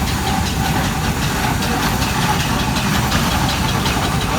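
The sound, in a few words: vintage steam ploughing engine with winch running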